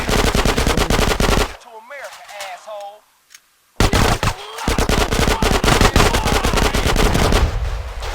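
A machine gun fires in the video game GTA San Andreas: loud, rapid bursts of gunfire that stop for a couple of seconds, then resume in dense continuous volleys.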